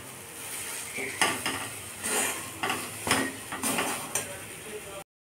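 A spoon scrapes and knocks in a pan in repeated strokes as mashed taro and coconut paste is stirred and cooks, over a low background sizzle, then stops abruptly.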